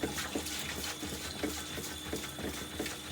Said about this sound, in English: And I'm also going to agitate this keg.